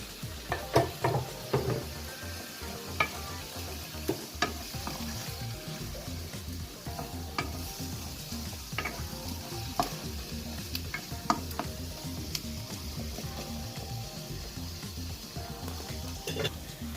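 Steady sizzling of vegetables in a hot pan with repeated scraping and clinking as they are stirred, continuous and fairly close.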